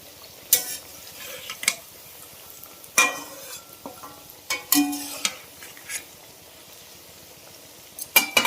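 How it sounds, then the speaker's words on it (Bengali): Hinche leaves dipped in gram-flour batter fry as fritters in a pan, a soft sizzle underneath sharp metallic clinks and scrapes from a spatula coming in scattered bursts, fairly close and quiet. "একটা একটা করে এখানে বড়া ভাজতে শুরু করে দিয়েছি"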